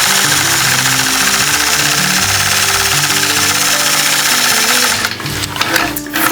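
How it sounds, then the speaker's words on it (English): A sewing machine stitches free-motion quilting lines with a ruler, running in a loud, fast, continuous mechanical drone that cuts off near the end, leaving a few softer clicks. "engage the machine and stitch point to point"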